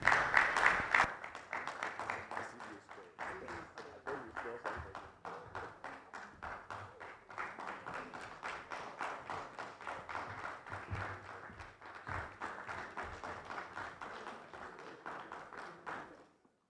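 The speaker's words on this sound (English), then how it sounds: "Please, a round of applause for our panelists." A conference audience applauds panelists at a business event, with a continuous patter of clapping hands, fairly quiet and distant, that holds steady before tapering off at the end.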